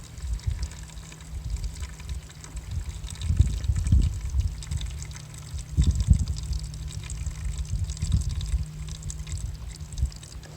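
Water from a solar water heater pours and splashes steadily from a pipe, with louder gushing surges every couple of seconds, close and otherwise uninterrupted.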